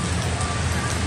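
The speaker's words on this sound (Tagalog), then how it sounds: "Wala pong tigil ang ulan." Steady rain falls without pause, a dense, even hiss of drops on surfaces, close and constant throughout with no talking.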